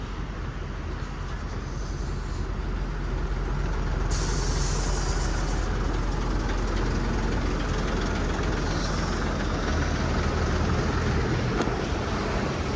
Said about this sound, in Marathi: 1 वे आहे आणि त्याच्यामुळे पुरी ट्रॅफिक जाम झालेली आहे